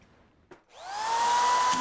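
A Quick Drive Pro 250 auto-feed screw gun toenails a screw: a sharp click, then the motor whirs up into a loud, steady high whine that holds to the end.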